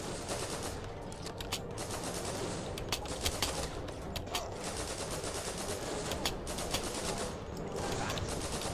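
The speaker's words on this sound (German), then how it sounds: "Ja, wo schieß ich denn hin?" Rapid gunfire in the video game Guns, Gore & Cannoli 2: dense bursts of automatic shots crackle almost nonstop, layered with sharper individual reports, loud and continuous throughout.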